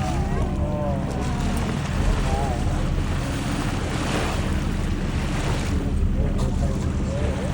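A small tour boat rides the sea off Portugal, with steady wind buffeting the microphone and waves and surf washing against the hull throughout, loud and continuous.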